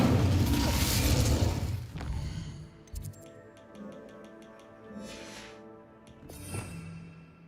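Incendio fire spell cast in Hogwarts Legacy: a loud roaring whoosh of flame for about two seconds, then fading to lighter clicks, tinkling chimes and soft game effects.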